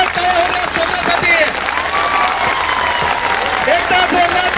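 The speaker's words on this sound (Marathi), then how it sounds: "एकदा जोरदार टाळ्या होत्या स्वतःसाठी." Crowd at a student protest rally against MPSC online exams claps loudly and continuously, a dense wash of applause with scattered shouting voices mixed in.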